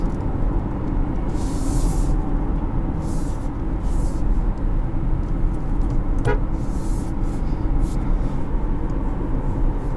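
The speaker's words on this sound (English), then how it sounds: "Nice horn, actually." The horn of a 2020 Chevrolet Equinox Premier sounds in several short honks at intervals, heard from inside the car over a loud, steady rumble of road and engine noise.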